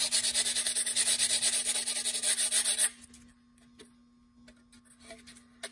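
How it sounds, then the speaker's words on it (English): Hand sanding the edge of an Anvil cowl vent with a small folded piece of 60 grit sandpaper, a loud rhythmic rasping scrub of quick back-and-forth strokes for about three seconds, then stopping to near quiet with faint handling noises. "I use some 60 grit, just a little piece, fold it over, and just start kind of sanding on it on the edge"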